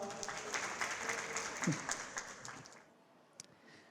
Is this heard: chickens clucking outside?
no